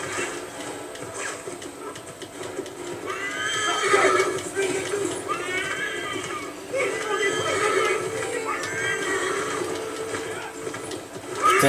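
A horse in the Assassin's Creed 3 video game neighs and whinnies several times, with galloping hoofbeats beneath. The calls are loud and close and come in repeated bursts over a steady background.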